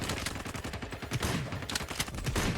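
Shotgun blasts in the video game Sabotaj, a dense run of loud, sharp shots fired in rapid succession amid other gunfire, with no talking.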